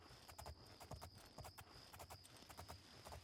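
A horse in Elder Scrolls IV: Oblivion trots with steady, rhythmic clip-clopping hoofbeats, clear and evenly paced, set over a quiet ambient hum.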